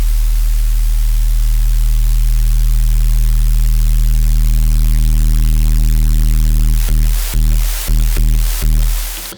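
Overdrive on an Elektron Syntakt drum machine saturating a loud, dense static noise over a steady low hum, then chopped into several abrupt rhythmic cuts near the end.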